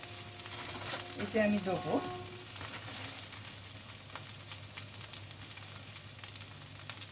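Potatoes fry in a pan with a steady soft sizzle while someone speaks briefly near the start, the hiss continuing alone afterward at moderate level.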